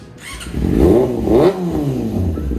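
A Yamaha R6 600cc inline-four motorcycle engine revs up sharply twice in quick succession, each rise peaking and falling back, loud and close with a rasping high-pitched exhaust note.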